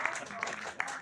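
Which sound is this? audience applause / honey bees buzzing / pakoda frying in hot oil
audience applause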